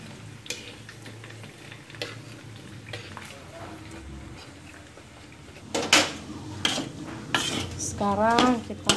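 Metal spatula scraping and clinking in a pan while fried rice is tossed with chicken and sweet soy sauce. A quiet sizzle runs underneath, then louder, irregular clatters of stirring come near the end, with a brief voice.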